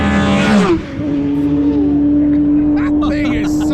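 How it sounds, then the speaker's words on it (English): A loud Vauxhall-engined race car holds a steady high drone after a quick downshift at Snetterton, with commentary talking over it. "Good old trusty Vauxhall engine"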